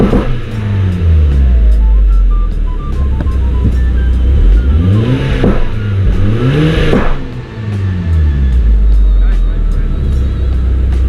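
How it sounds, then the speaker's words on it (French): Audi S3 8P running a medium-intensity crackle map, its engine revving repeatedly with loud rising and falling blips and popping exhaust, close up, while someone talks faintly in the background. "Crackle map, c'est le pop and bang."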